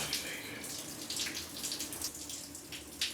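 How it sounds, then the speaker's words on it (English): Water drips and trickles from a wall inside a dark old mill, a steady patter of small splashes close by with faint background hiss, no one talking. "There's actually water in here, literally dripping on my head as well."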